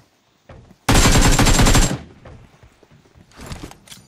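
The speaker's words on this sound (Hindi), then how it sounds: "ये देखो फायरिंग भी कर दिया" Automatic gunfire in Battlegrounds Mobile India, heard as a single loud, close burst of rapid shots lasting about a second, with quieter scattered game sounds before and after.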